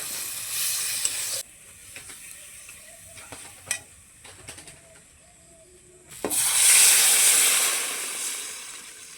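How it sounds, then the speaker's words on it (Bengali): Water poured into a pan of sizzling fried masala for pakora gravy, a loud burst of hissing and spattering that erupts after quieter stirring and scraping sounds. "গ্রেভির জন্য জল দিয়ে দিচ্ছি।"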